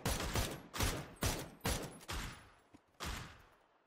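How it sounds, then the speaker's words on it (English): Enemy gunfire from a hill during a PUBG duos match, a string of six or seven sharp, mid-distance shots spaced irregularly about half a second apart, each with a short fading tail. "Is that one guy or two guys shooting?"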